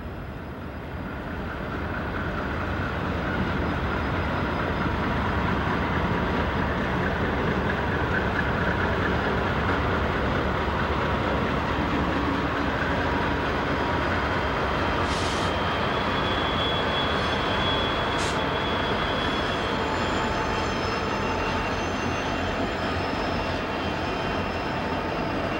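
A freight train rolls past at Roseville on Southern Pacific's Donner Pass line, a loud, continuous rumble and roar of engines and wagons that holds steady throughout, with two brief high squeals partway through.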